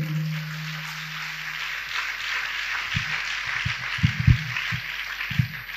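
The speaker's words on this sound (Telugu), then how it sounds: "గట్టిగా చప్పట్లు కొట్టండి, గట్టిగా" A church congregation claps during a sermon, giving a steady wash of broadband applause throughout. A few heavier, louder bursts come toward the end, and no one speaks.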